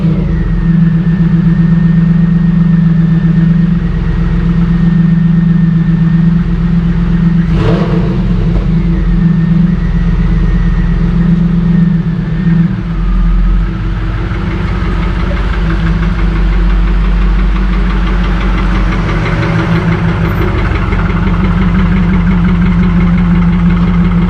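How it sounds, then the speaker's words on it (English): A Pontiac Firebird Trans Am V8 sits at a loud, steady idle after a cold start, with a low rumbling drone and a brief sharper blip partway through, running unbroken throughout. "now let's get in the car. We're going to do a cold start"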